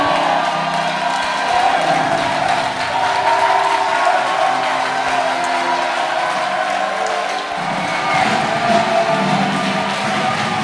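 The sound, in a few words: congregation applauding and cheering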